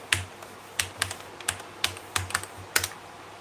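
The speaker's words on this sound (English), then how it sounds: "it's ghost typing" A computer keyboard, one once damaged by spilled wine, clacks with irregular close keystrokes, roughly a dozen distinct taps in quick uneven succession with no voices.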